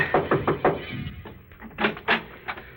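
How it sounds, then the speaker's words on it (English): Knocking on a door as a 1945 radio drama sound effect, a series of close, distinct raps in two uneven groups on a muffled, narrow-band recording. "I knocked at the door."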